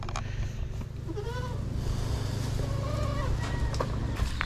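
Several goats bleat in short, wavering calls over a steady low rumble of background noise.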